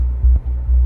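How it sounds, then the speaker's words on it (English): A deep, pure sine-wave sub-bass tone throbs in short pulses, steady and low with nothing above it. "Pretty simple sub, just a sine wave."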